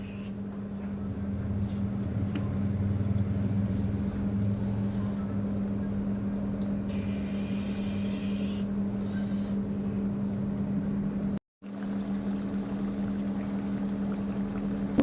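Khaja sweets deep-frying in hot oil in a wok give a steady, soft bubbling hiss over a constant low hum, unbroken apart from one brief dropout near the end.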